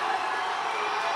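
Steady crowd roar and cheering at a strongman competition in Dumfries, Scotland, as a father urges on his son lifting a 200 kilo stone; dense, continuous and fairly loud throughout.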